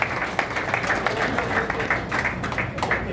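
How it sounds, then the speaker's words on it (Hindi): An audience gives a strong round of applause for the MD, many hands clapping in a continuous crackling wash with a few sharper individual claps standing out. "तो एमडी साहब के लिए एक जोरदार ताली दोबारा आप सभी।"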